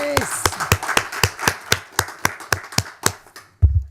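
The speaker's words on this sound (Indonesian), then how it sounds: "Tepuk tangan buat Ruben Onsu." An audience at an entertainment show applauds a well-known presenter, clapping in a steady unison rhythm of about fifteen sharp claps, followed by a brief low thump at the end.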